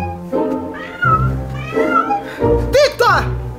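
A house cat meows several times indoors, close and fairly loud, mixed in with people speaking.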